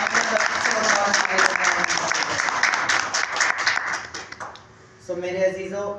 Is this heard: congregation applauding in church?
yes